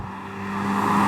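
A 2004 Subaru Impreza WRX STI Spec C Type RA engine and exhaust, a steady moderate drone that rises gently in loudness over about a second, not especially loud or raucous.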